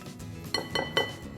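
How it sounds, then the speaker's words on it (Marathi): Fried onion and garlic being scooped from a pan into a bowl, giving three quick metallic scrapes and clinks of a utensil against cookware, close by with no talking. "कांदा आणि लसूण पण छान परतले गेलेत, याला पण काढूया बोलमध्ये"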